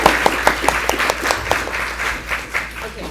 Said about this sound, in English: Can we have some more applause for 7?